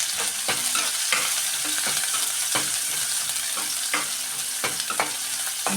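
Onions, green chillies and curry leaves fry in a pan with a steady, close sizzle, broken by repeated sharp scrapes and knocks of a spoon being stirred through them, without any voices.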